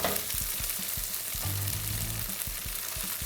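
Buffalo tofu fries in a hot pan with a steady, bright sizzle broken by small crackles and pops, close up and continuous, with no talking.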